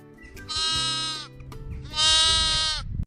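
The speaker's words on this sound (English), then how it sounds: "S for sheep" A sheep bleats twice, each call a loud, wavering cry of about half a second, separated by a short pause.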